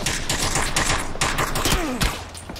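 Automatic gunfire crackles in the battle royale video game PUBG: a rapid, loud volley of many close shots in quick rhythm, with a brief whistling tone in the middle.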